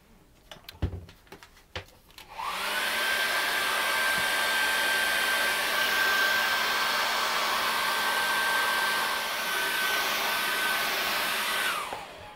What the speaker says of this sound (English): I'm just going to dry that over very quickly now with the hairdryer